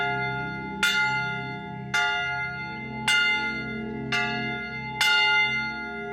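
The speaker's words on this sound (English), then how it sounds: "So I'm going to ring the bell." A freedom bell at a museum is struck five times at roughly one-second intervals, each loud metallic clang ringing out with a long shimmering decay that overlaps the next strike.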